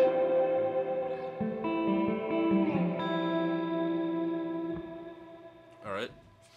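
Electric guitar chords swell in softly and ring out with reverb from an RV5 pedal but no echo repeats, sustaining and slowly fading.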